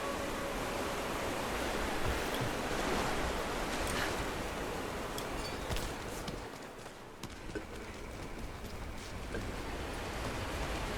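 Rushing water pours in a continuous, fairly loud wash as the water level rises inside a ruin in Rise of the Tomb Raider, with a slight dip midway before the flow resumes.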